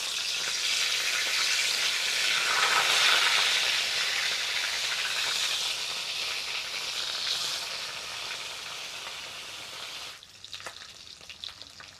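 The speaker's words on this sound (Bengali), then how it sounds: "সরষের তেলটা আমি কড়ার মধ্যে দিয়ে দিচ্ছি, আর তেলটাকে ভালো করে গরম করে মাছটা আমি ভেজে নেব।" Fish sizzles in hot mustard oil in a wok, a loud, steady hiss and crackle of frying that swells around the third second, eases slightly, then drops away near the end with only faint spatters left.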